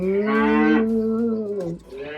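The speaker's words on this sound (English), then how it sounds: "The cow goes, moo" A cow moos once, loud and close, in a long low drawn-out call that dips briefly before trailing on at the end.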